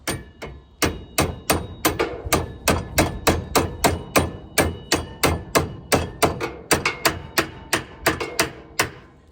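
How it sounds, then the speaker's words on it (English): Loud metallic hammer blows on a pressure washer unloader valve held in a vise ring out about three times a second in a steady run of more than twenty strikes, close up, with no voices. "I'm just gonna hit the end of it with a hammer"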